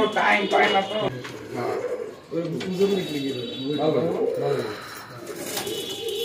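Pigeons coo steadily in a loft, their low rolling calls repeating close by, with a person's voice partly mixed in.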